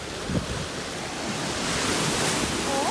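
Strong wind buffets the microphone in a steady roar while waves surge and break along the shore, building slightly louder toward the end with no voices.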